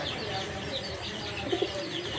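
Fancy Rajgolla pigeons coo softly in a pen, with low murmuring calls and brief chirps over a steady background hum.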